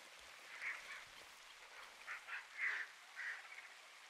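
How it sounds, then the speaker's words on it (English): Ducks quack faintly several times in scattered calls over a quiet, hissy background, in the video game Red Dead Redemption 2 roleplay. "What is that? I hear ducks."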